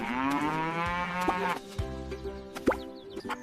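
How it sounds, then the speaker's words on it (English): A cow moos in one long, drawn-out low call that falls in pitch, followed by a few soft knocks and plops in a quiet farm setting. "M-O-O. What is it? A cow."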